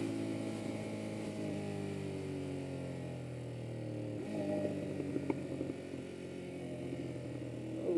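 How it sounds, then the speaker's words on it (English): Exhaust of a Ducati Monster 1200S motorcycle while riding, a steady droning engine tone that shifts pitch partway through as the revs change, continuous and moderately loud with no talking. "Love this exhaust. It sounds beastly. It's nice and loud, and it's not annoying loud."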